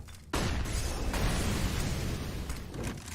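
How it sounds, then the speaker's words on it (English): Incendiary grenades burst in the video game CS:GO on the Inferno map during a Vitality vs Heroic match, giving a sudden loud whooshing flare. It becomes a sustained roaring crackle of fire that lasts a few seconds. "Those 2 incendiaries practically nullify each other."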